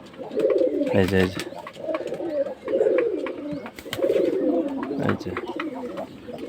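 Pigeons coo repeatedly in rhythmic, throaty phrases close by on a sunny morning after a night of rain and storm. Someone speaks briefly between the calls.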